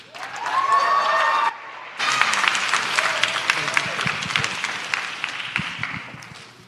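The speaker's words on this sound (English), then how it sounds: "Let's hear it up for Clayton." Applause from an audience at an investor panel event welcoming a company founder, with talk at the start and then dense, sustained clapping that carries on steadily to the end.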